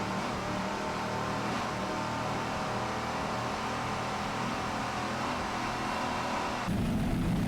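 Racing powerboat passing during the 2002 Key West offshore race, a steady loud engine roar with wind and water rush throughout, surging slightly near the end, with no voices.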